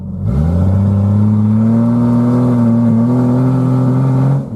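A 1991 Jeep Cherokee engine drones steadily and loudly while driving, its pitch holding fairly even with slight wavering as it breaks up above 3,000 RPM, with no voices present.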